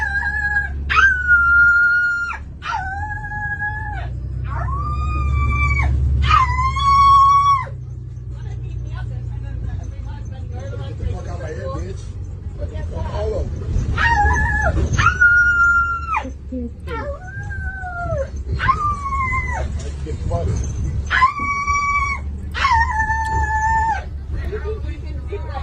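A voice imitates a dog, giving a long series of repeated barking howls with a rising and falling pitch. The calls are loud and close over a low background rumble.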